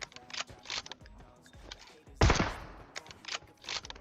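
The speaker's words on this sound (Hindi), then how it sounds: "गोली भी चला रहा हूं" Automatic gunfire rattles in rapid, repeated bursts during a PUBG Mobile match, with one louder, heavier volley near the middle among fainter clusters of shots.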